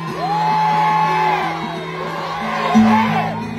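Large political rally crowd in Davao shouting and cheering, loud and sustained, with whoops and yells rising and falling over a continuous roar.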